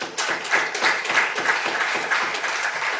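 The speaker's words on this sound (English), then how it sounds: "I can see the Lord Mayor clapping." A Lord Mayor and an audience clap together in a steady, fairly even rhythm of applause that fills the whole stretch at moderate volume.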